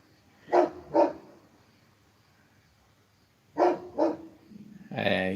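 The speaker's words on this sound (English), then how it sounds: "we've got a dog next door." A neighbour's dog barks in two pairs of sharp, fairly close woofs separated by a pause, with a voice starting up at the very end.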